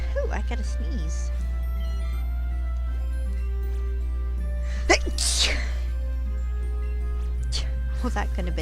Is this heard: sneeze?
yes